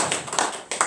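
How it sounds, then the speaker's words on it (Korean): Several brief hand claps from a church congregation at a Sunday worship service, sharp and fairly close, scattered within a second, with no talk. "박수 한번 칩시다."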